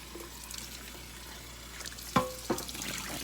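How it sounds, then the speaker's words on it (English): Water runs from a tap, with a couple of sharp clinks and splashes as a container is rinsed near the sink. "I'll just take my container and just rinse it out real quickly."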